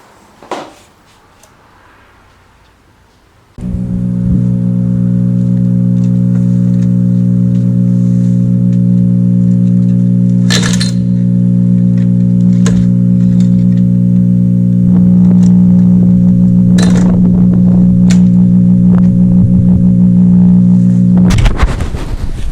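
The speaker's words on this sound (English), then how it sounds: "we're gonna give it a pull and see what happens" A small gasoline lawn mower engine pull-starts with a brief rattle, then catches and runs loud and steady for most of the clip, with a few clanks on top before it abruptly cuts out near the end.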